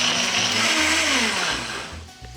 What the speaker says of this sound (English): I'm gonna puree these until completely smooth